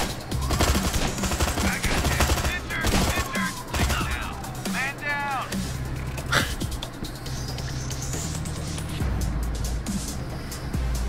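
Long rifles fire in Door Kickers, a tactical top-down shooter, sharp shots ringing out in irregular bursts over busy game noise, with someone talking throughout.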